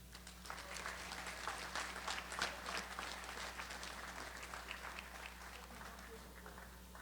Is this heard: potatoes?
no